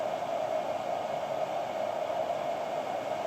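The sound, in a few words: cooling fan noise of ENGWE EP-2 Pro e-bike charger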